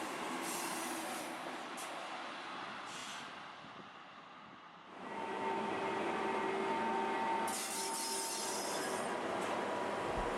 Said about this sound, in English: The green train pulls into the station high up on the mountain.